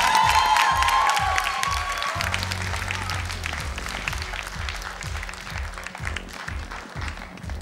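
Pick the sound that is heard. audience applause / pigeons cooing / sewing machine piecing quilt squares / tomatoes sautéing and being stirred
audience applause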